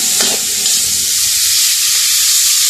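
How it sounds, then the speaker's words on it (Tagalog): Bitter gourd (ampalaya) sizzles loudly in a hot frying pan as it is stirred, a steady close crackling hiss with a brief scrape of the utensil near the start. "Mix naman yung ating ampalaya."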